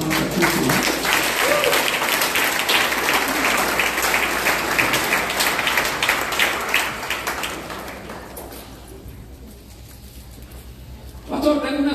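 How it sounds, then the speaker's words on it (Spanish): A church congregation gives loud applause to Christ during a sermon, steady dense clapping that gradually fades over several seconds into a quieter pause before a voice returns. "¿Por qué no le das fuertes palmas a Cristo?"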